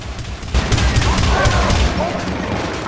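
Dense gunfire and explosions fill a co-op firefight in the game Syndicate, a loud continuous barrage of shots and booms from several attackers throughout.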